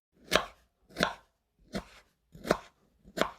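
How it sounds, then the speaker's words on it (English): Five steady knife chops on turnip cakes for a New Year feast, evenly spaced thuds on a cutting board, close and clear with no talk. "So Goldy and Little Chan chopped,"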